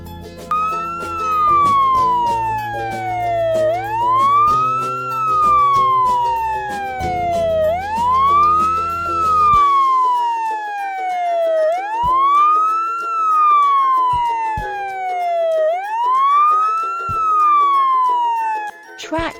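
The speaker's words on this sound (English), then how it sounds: "Fire truck" Fire truck siren wailing loud and close, its pitch rising and falling in long repeating sweeps, with a steady rumble beneath at the start.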